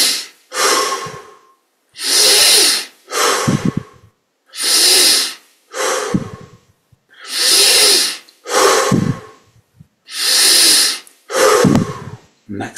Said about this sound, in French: On augmente l'amplitude des respirations.